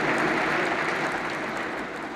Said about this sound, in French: Ça mérite un applaudissement.